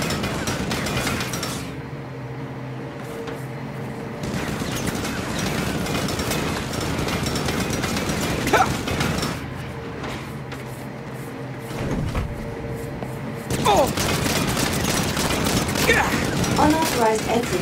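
Turret machine gun fire in Saints Row, sustained rapid bursts with mechanical rattling that stop and restart several times over a busy game soundscape, loud and close.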